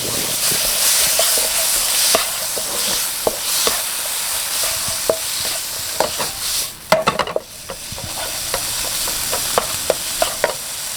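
Tofu dish with garlic stir-fried over a high flame: a loud, continuous sizzle with repeated sharp scrapes and clanks of the utensil against the pan, busiest in a burst of tossing midway.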